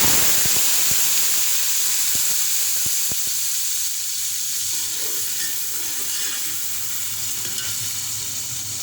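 Onions sizzle and hiss in hot oil as the base for a fish curry, a constant close frying crackle with a few sharp spoon taps and stirring clatters early on, no voices.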